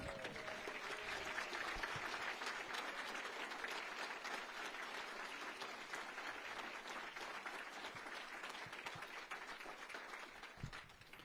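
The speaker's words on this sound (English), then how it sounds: "can you please stand up so we can applaud you?" Sustained applause from a large audience, steady and dense throughout, with no pauses or talk.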